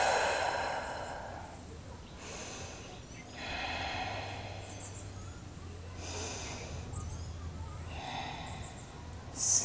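Deep yoga breaths during a power vinyasa flow come as slow, airy inhales and exhales in a regular rhythm, roughly four long breath cycles, close and soft with faint background music.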